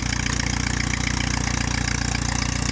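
Engine of a 1946 Case VAC tractor running close by, a loud, steady, rapid chugging throb with no pause and no voices.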